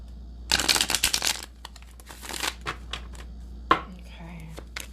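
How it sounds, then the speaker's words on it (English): Tarot cards shuffled by hand in a dense burst of crisp riffling and flapping, then scattered lighter card taps and one sharp snap near the end, close and fairly loud. "Last shuffle."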